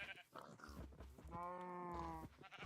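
Sheep bleat in a Minecraft farm scene, a long wavering cry with a clear harmonic stack following a few shorter animal grunts and low thuds, close and moderately loud.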